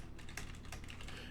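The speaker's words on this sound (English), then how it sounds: "I'll actually go ahead and type it into the chat" Quiet, fast keyboard typing as a message goes into a live chat, a close run of soft key clicks with some sharper taps, alone without talk.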